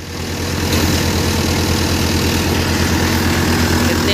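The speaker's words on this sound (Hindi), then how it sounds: "बिल्कुल साउंड फ्री चल रहा है ट्रैक्टर" A Euro 55 tractor engine idles steadily and loudly up close, running a Malwa multi thresher under no load, a continuous low throbbing rumble with no voices.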